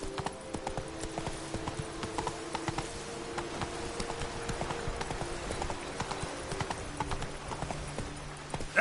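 Horse Roach gallops in The Witcher 3, a steady rapid clip-clop of hooves running continuously and fairly loud against a constant game ambience, with no voices over it.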